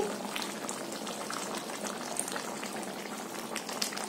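A vegetable curry with potatoes and kokum simmering in a pot, giving a steady, close bubbling hiss that carries on without a break and with no talk.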